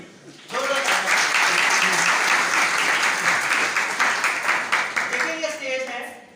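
An audience at a stage drama about women's rights breaks into loud applause, a dense burst of clapping that swells quickly, holds for several seconds, then thins out, with voices heard amid the noise.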